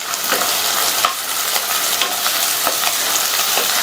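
Chopped large onion and about ten to twelve cashews sauté in a pan with a bright, steady sizzle, broken by regular scraping stirs close to the microphone, with no one speaking.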